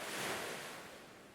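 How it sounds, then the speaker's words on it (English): Ocean waves wash onto the shore in a soft, broad hiss that swells and then fades slowly over about a second and a half, faint and heard alone. "whenever you hear the waves whispering"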